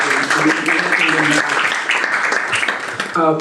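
Conference audience in Berlin claps to welcome speakers joining the stage, the applause running under a voice speaking over it throughout.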